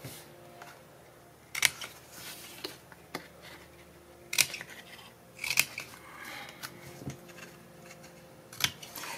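Scissors snipping paper along a pencil line while building a baby scrapbook album, several sharp separate cuts at irregular intervals against a quiet room.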